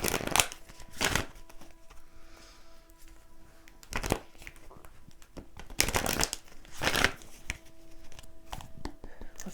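Tarot cards shuffled by hand in several quick riffling bursts, close and crisp, separated by short pauses with a faint tonal hum underneath.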